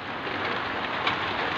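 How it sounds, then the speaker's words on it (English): Steady rain falls on a rainy day, a dense, even hiss of drops on surfaces with no pauses, fairly loud and continuous, no voices over it. "It's raining right now."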